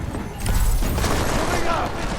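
Gunfire in the video game Deus Ex: Mankind Divided, heard as a dense, loud volley of shots that starts suddenly about half a second in and keeps going with game sound effects mixed in.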